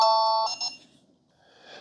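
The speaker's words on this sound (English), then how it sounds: "So now when I press the remote, I get a light and a tone." A wireless doorbell triggered by its remote plays a short two-note electronic chime, clear and nearby, then fades to quiet with a faint tonal tail at the end.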